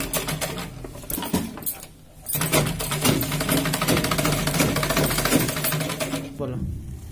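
A sewing machine stitches the other side of a fabric pencil pouch, starting, pausing briefly, then running in a steady rapid rattle before easing off.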